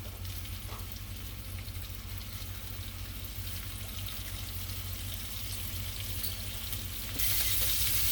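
Seasoned chicken pieces frying in a pan give a steady, fairly quiet hiss and crackle with no talk, growing brighter and louder in the last second.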